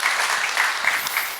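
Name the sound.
congregation applause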